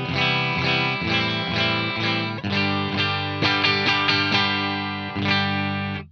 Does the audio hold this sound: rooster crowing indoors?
no